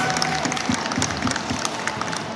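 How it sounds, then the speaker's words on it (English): Steady applause from a comic convention audience, a dense patter of many hands clapping at even loudness throughout, with no voices rising above it. "Round of applause for these people, please."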